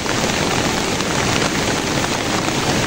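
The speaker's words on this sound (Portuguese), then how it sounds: "Uma chuva forte mesmo, né, uma tromba d'água." Heavy rain pours down steadily at a country smallholding as storm runoff rushes off the hills, forming a dense, loud, unbroken hiss with no voices.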